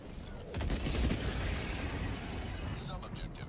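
Airstrike explosions in the video game Helldivers 2 boom and rumble in a continuous heavy barrage, with loud blasts early on and a lingering roar, plus faint chatter near the end.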